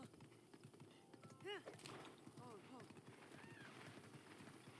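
Horse hooves clip-clop at a gallop in The Legend of Zelda: Breath of the Wild, a quick rhythmic patter with a brief whinny, heard under quiet ambient game sound.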